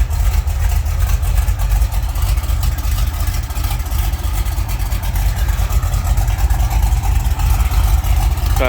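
A Chevrolet Camaro SS with a 396 big block and mild cam idles steadily just after a cold start, a loud, close, continuous low rumble with no talking over it.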